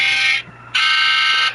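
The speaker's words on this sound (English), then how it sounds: "that was my alarm to get up earlier" A loud electronic alarm beeping close by in two long, harsh buzzing tones separated by a short gap.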